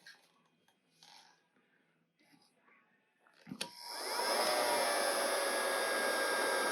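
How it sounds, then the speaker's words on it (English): A heat gun set to 700 degrees switches on with a click and roars into a loud, steady blowing hiss while heating a Raychem solder sleeve on aircraft wiring, after a few seconds of faint handling noises. "Now what you can do is grab your heat gun. Again, still at 700 degrees."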